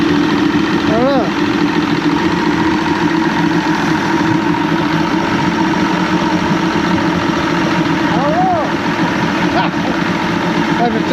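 A 1987 Johnson 150hp V6 outboard engine with a loss-of-power fault runs steadily at a loud, even idle throughout, with brief faint chirps and talk in the background.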